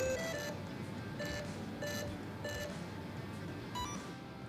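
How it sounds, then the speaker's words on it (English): Startup beeps from the ESC of an SCX10 III Gladiator RC truck on a 3S LiPo: short, bright electronic tones repeating at intervals over a steady background hiss, with no voices. "You will hear 3 beeps because we are using a 3S LiPo."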